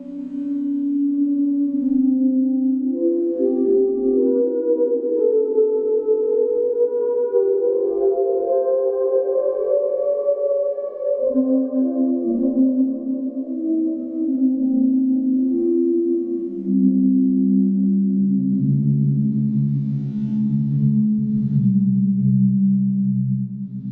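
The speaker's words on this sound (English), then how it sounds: "the filter on the verge of self-resonance feeds back on itself via the built-in spring reverb for a truly haunting sound" A modular synth filter on the edge of self-resonance feeds back through a built-in spring reverb, producing slow, eerie, gliding sonar-like tones that drift and warble continuously for the whole stretch.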